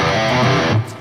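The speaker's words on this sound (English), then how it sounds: "So lots of hammer-ons like this." A distorted electric guitar plays rapid legato hammer-on notes in a single loud, dense burst of about a second, then cuts off abruptly.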